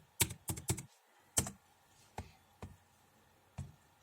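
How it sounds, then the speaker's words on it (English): Keys are struck on a computer keyboard while entering a password during a Windows 7 activation. A quick cluster of close, crisp taps is followed by slower, spaced single presses in an otherwise quiet room. "So now you just need to write password from archive."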